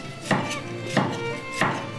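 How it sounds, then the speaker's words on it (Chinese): A knife slices winter bamboo shoots on a cutting board, three crisp, evenly spaced chops close by with nothing else around them. "同样，笋先切片，再把笋片切成笋丝。"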